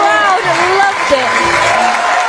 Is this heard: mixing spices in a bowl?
no